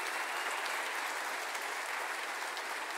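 A church congregation gives a full, continuous round of applause, an even wash of clapping that fills the room from start to finish.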